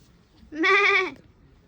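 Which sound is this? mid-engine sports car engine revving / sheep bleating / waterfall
sheep bleating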